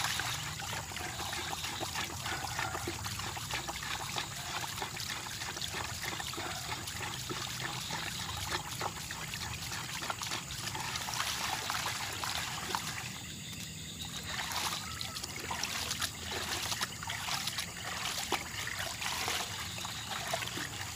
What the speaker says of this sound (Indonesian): kita aduk dulu pakai kayu